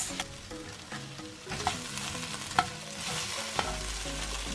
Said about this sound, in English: Cook potato, carrots, onion. Use low heat.